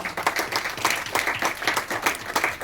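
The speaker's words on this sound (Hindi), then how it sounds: "मैं इनके लिए चाहता हूं कि आप सभी लोग एक जोरदार तालियां बजाएं।" An audience claps loudly at a closing ceremony, giving a strong round of applause with a steady dense patter of many hands and no talking over it.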